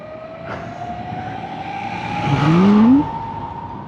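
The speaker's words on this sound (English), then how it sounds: "Wow, big scary lorry coming." A lorry approaches and roars past close by while riding a TVS X electric scooter, its engine and road noise swelling loudly before quickly fading, over steady traffic hum.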